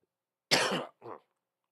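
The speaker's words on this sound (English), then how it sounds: "Still got a little bit of a cough." One close, harsh cough followed by a shorter, softer second cough, then silence.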